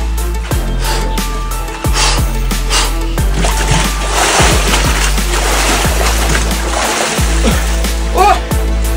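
Splashing and sloshing water as people plunge into cold water outdoors at about 3°C air temperature, with gasps and short exclamations over steady outdoor background noise.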